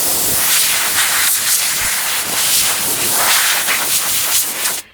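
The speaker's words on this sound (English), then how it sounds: "let's go ahead and look at what a compressed air system is going to do." A compressed air canister blower blasts a continuous loud, steady hiss at close range, cutting off abruptly at the very end.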